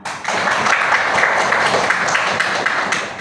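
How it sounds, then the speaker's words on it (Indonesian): Students in a classroom clap together during a microteaching lesson, a dense burst of applause that swells quickly, holds steady and tapers at the end. "tepuk tangan bagi kita semua"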